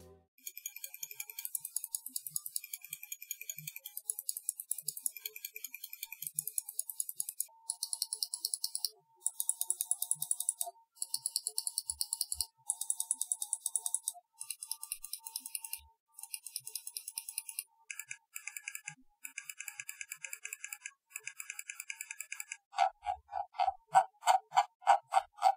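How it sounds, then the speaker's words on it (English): Bursts of crisp mechanical clicks from the buttons of a SteelSeries Rival 310 gaming mouse with Omron switches, clicked in rapid runs and short pauses, close and clear with no talking. "Here is a sound test of the buttons."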